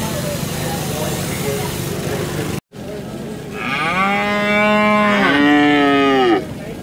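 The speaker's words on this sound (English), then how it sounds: "Look at these young cows here, look." Young cattle at a rainy agricultural show let out long, loud, close moos, one call running into another, after a stretch of crowd noise and talk.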